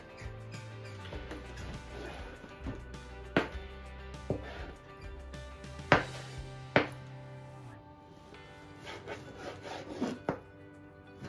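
A knife sawing through steak on a cutting board, a close, low rubbing stroke repeated back and forth with occasional sharper taps of the blade hitting the board, faint and steady, no speech.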